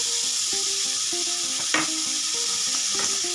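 Minced pork stir-frying with holy basil in a hot pan, an even sizzle broken by regular clanks and scrapes of a spatula against the pan, close and alone.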